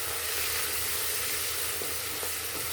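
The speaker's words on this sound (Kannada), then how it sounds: "ಒಂದು 2ರಿಂದ 3 ನಿಮಿಷದವರೆಗೆ ಇದು ಎಣ್ಣೆಯಲ್ಲಿ ಹುರ್ಕೋತಾ ಬರಬೇಕು" Chopped onion and green chillies fry in hot oil, giving a steady, close sizzle with a low background hum and no voices.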